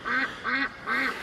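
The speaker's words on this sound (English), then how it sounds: "Actually, the louder female ducks are louder than male ducks." A female duck quacks loudly three times in a steady rhythm, each call harsh and nasal, close by with no other sounds around it.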